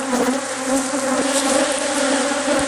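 Honeybees from an aggressive colony drone steadily around an open hive during requeening, a dense continuous buzz of many insects close by with no voices.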